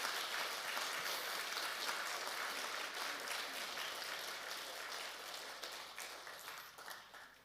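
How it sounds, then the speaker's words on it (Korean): Congregation applause in a church during a Korean Sunday service, a dense, even wash of clapping that holds steady for several seconds and then tapers off, heard from a distance without talking. "우리 인사하고 들어갈 때 크게 박수 하겠습니다."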